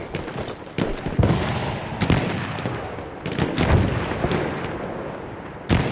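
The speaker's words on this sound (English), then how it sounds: "That's an enemy machine gun." Enemy machine gun fire in the video game Battlefield 1 rattles in loud bursts and heavy booming shots, some close and some echoing farther off, with short lulls between volleys.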